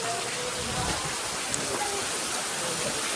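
A downpour pours steadily near a JCB and tractor, an unbroken dense hiss of heavy rain at close range with no talking.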